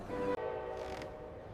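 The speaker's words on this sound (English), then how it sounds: "The next train leaves in 10 minutes." A train horn blasts loud and steady with a sustained harmonic tone, then drops to a lower continuing horn and rumbling train noise, close by and without speech.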